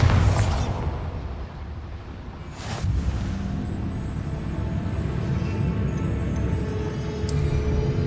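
Bombarda spell blast in the video game Hogwarts Legacy, a loud burst at the start with a second sharp impact near three seconds, followed by rumbling debris and a brief bright crack late in the clip.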